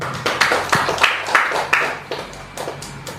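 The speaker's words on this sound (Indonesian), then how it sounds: "Bisa memberikan tepuk tangan untuk Pak Ali Purnomo" Audience applause at a forum on campaign-stage election oversight, a short scattered round of claps from a modest crowd, uneven and fading toward the end with no one speaking over it.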